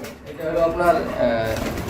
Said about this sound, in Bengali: এটা কি কবুতর জোড়া দেখতে পাচ্ছি ভাই